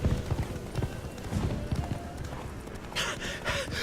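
Geralt's horse Roach galloping in Witcher 3, a steady run of hoofbeats close by, with game sound effects and music around them and brief speech over the top.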